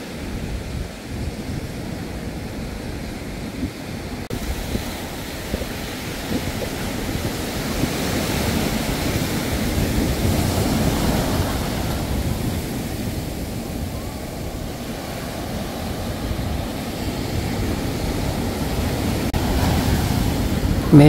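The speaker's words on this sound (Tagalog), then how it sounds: "Malakas yung alon." Strong waves rolling onto a rocky beach in Quezon Province under gloomy weather, a continuous deep roar of surf with slow swells and wind noise, loud and close, without talking.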